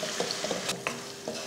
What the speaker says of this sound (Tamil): இப்போ சேர்த்து கலந்துடுவோம்.